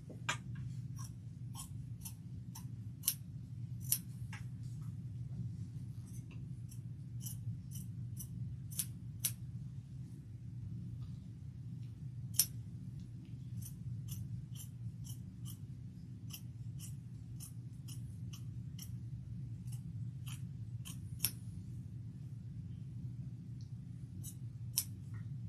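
Scissors trim fabric pocket pieces for a shoulder bag, giving a string of crisp, irregular snips close by over a steady low hum, with no talking.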